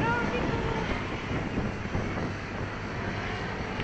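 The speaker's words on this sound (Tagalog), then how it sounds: "First time maka-experience ng hangin nito." Wind roars and buffets steadily against the microphone for the whole stretch, a dense, rumbling blast with no pauses.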